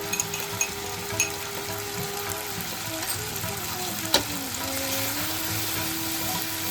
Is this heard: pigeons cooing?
no